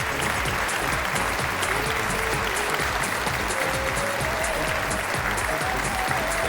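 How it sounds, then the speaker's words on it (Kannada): Dense, continuous applause fills the hall at a business award function, a large audience clapping steadily for several seconds. Faint background music runs underneath. "ಎಲ್ಲರ ಒಂದು ಜೋರು ಚಪ್ಪಾಳೆ ಮುಖಾಂತರ"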